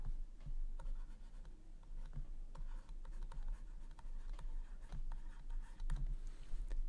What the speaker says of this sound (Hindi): अब हम लिखेंगे यहाँ